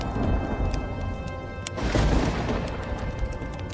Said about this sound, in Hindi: आसमान में काले बादल छा जाते हैं और जोर जोर से बिजली कड़कने लगती है।